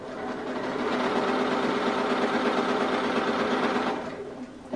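A sewing machine runs steadily for about four seconds, stitching a quilting seam with a quarter-inch seam allowance, then stops. The hum and rapid needle chatter are close and continuous, with no speech.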